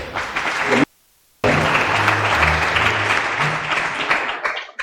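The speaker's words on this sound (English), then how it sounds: "Kindly let us give her another applause." Applause from a crowd at a university student association inauguration ceremony, broken by a brief moment of silence, then steady clapping resumes with some low murmuring underneath before fading out.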